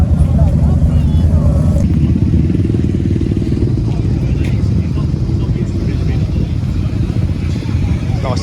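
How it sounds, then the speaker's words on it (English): A Ducati Multistrada motorcycle engine rumbling steadily and loudly close by, with a constant low throb throughout and a voice speaking over it. "There we go, there's another mighty Multistrada."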